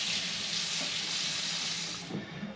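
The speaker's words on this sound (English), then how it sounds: "I'm going to give these a wash" Water runs steadily from a tap over a kitchen knife and a rolling knife sharpener being washed, a close continuous hiss that eases off near the end as the flow changes.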